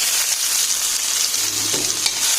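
Onions sauté in a hot pan for sinigang sa miso with talakitok fish, giving a loud, continuous close-up sizzle with no talking.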